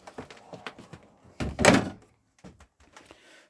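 A caravan door on a 2013 Sterling Eccles SE Quartz opening as someone steps inside, with a close, loud thunk and rattle in the middle, surrounded by softer clicks and handling knocks.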